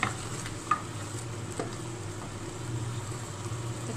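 Masala for chicken daleem fries in a pan with a steady low sizzle as a spoon stirs it, giving a few sharp scrapes and clinks against the metal. Close and continuous, with no talking.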